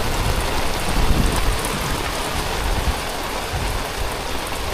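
Heavy rain falls at night during outdoor fishing, a loud, dense, steady hiss of drops striking surfaces close by, continuous throughout with a slight swell near the start and no talking.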